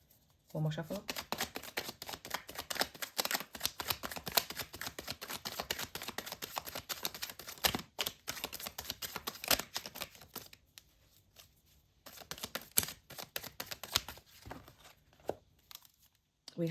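Tarot cards shuffled in a deck during a love reading, a dense run of crisp riffling and flicking close by, with a few brief pauses and a spoken voice now and then.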